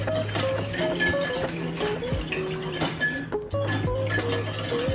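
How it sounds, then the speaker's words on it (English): A whisk clinks and taps rhythmically against a bowl while honey soy braising sauce is mixed, a busy run of light metallic ticks over faint background music, no voices. "I'm just gonna whisk that all up."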